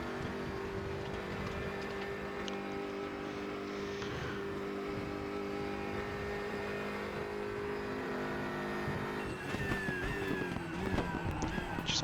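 A GT3 race car lapping Spa in the RaceRoom racing game, a sustained engine drone held at steady pitch, then choppier revs and shifting near the end as it brakes into a corner, with no talk.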